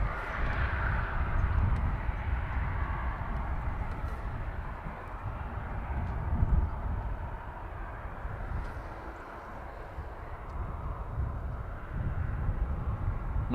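A Qatar Airways Boeing 777-300 departs Dublin Airport for Doha, its engines a broad, steady rumbling roar heard from a distance, swelling and easing slightly over the whole stretch.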